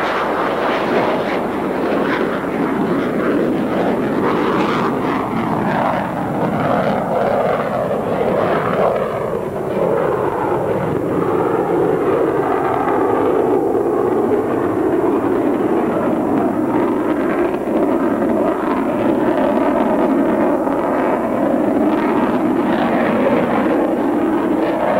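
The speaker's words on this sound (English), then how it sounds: "Pogo will take a simulator wave off, go to AB, clean up the aircraft" A fighter jet at an air show takes a simulated carrier wave-off in afterburner and climbs away, a loud continuous roar with a shifting pitch that lasts throughout.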